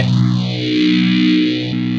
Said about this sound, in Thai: ก็เป็นเสียงแตกเดียว